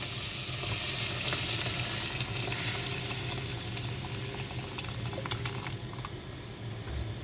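Soup cooking steadily in a pot on the stove, a continuous close sizzling and bubbling simmer with faint crackles throughout, no voices.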